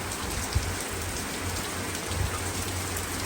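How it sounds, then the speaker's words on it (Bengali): Heavy rain falls at night in London as a dense, steady hiss, with a few low thuds, close and continuous with no voices. "এখন প্রচুর বৃষ্টি হচ্ছে,"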